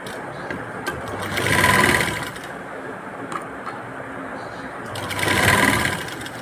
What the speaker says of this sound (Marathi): आपण याला आता बाजूने शिवून घेऊ आधी